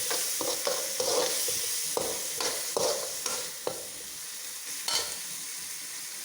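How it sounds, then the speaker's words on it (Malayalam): Onions, tomatoes and curry leaves sautéing in hot oil for a soursop fruit curry, a soft steady sizzle broken by repeated scraping stirs of a spoon against the pan, close up with no talking. "സവാള വഴന്നു, തക്കാളി ഇടാം. തക്കാളി, കറിവേപ്പില എല്ലാം കൂടെ ചേർത്ത്"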